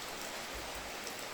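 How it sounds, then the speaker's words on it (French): Steady rain falling, a soft continuous hiss of drops spread evenly throughout, fairly quiet and with no voices. "Yes, it's raining."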